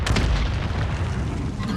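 Gunfire in the video game Warzone rumbles as a dense, continuous barrage of booming shots and blasts, loud and unbroken throughout.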